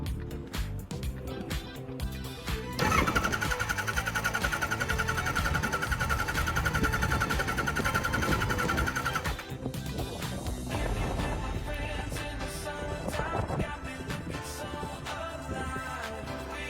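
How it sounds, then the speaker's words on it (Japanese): A restored Kawasaki Zephyr 1100 is cranked over by its starter without firing, because the crankshaft sensor is unplugged to circulate oil. The whirring churn runs steadily for about six seconds, then stops, leaving quieter mechanical clatter and handling noises. "少しクランキングします。"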